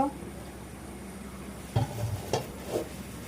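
Beef tehari pilaf is stirred in a pot, with a few close scraping and clanking strokes of a utensil against the pot over a soft background sizzle.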